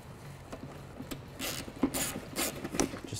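A ratchet clicks as a nut is started and snugged down on a plastic part, with short bursts of rapid close pawl clicks growing louder toward the end, no talking.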